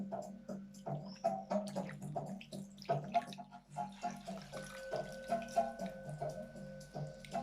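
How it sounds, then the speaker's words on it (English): A cloth is dipped back into a bowl of water during a gentle morning facial ritual with honey coffee and essential oils, giving soft, close splashing and dripping over a steady tonal background hum. "Putting back into the water."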